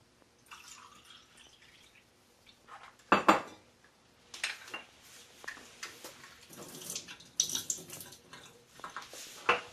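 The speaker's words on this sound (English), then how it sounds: "The first step is to fill the base with water." Water poured and splashing into the metal base of a Cuban coffee maker, with clinks of metal, a few louder clanks and bursts of running water in irregular spurts at close range.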